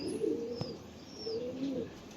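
A pigeon offered for sale coos close by in two low, rolling phrases, with a faint higher chirp and a brief click between them.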